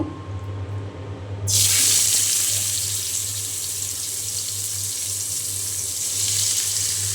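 Marinated fish pieces are dropped into hot oil, setting off a sudden loud sizzle that settles into a steady, close crackling fry.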